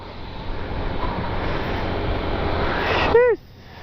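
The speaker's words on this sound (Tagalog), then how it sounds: "Tapos sobrang hangin." Steady rushing wind buffets the microphone for several seconds, loud and broadband, ending with a short voiced sound before it drops off.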